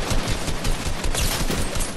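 Rapid gunfire in a video game, a dense burst of automatic shots with no pauses, loud and close throughout.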